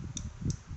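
Two quick, crisp clicks about a third of a second apart from a Honda brake lever with a parking brake, fairly close, over a low background rumble.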